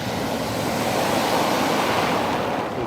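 Gravel rolls and churns in the surf on the beach below Patiti Point, Timaru: a steady, dense rushing hiss, close and loud, without any voices.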